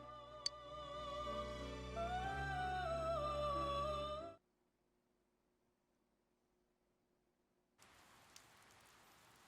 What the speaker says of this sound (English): It began raining.